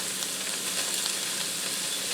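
Browned ground beef with taco seasoning sizzling in a pan over low heat, an even, continuous hiss-like crackle close by with no talking.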